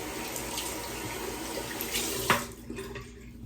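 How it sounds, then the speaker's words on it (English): Bathroom tap left running so the water heats up, a steady even rush of water into the sink with a small clunk near the end, close and alone without talk. "I'm gonna let this run because this water in this bathroom takes forever to heat up"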